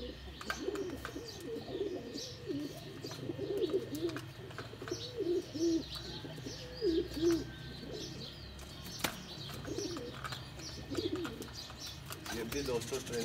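Fighting pigeons coo in repeated throaty bursts nearby, with occasional wing flaps and rustling in a quiet, enclosed space.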